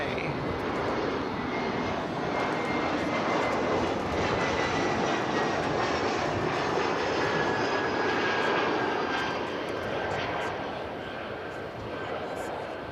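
A distant airliner takes off from the far east side of DFW Airport, its broad jet roar steady and sustained for the whole stretch before easing slightly near the end, heard from afar with no talk over it.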